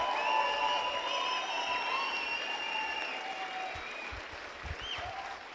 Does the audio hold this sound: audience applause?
yes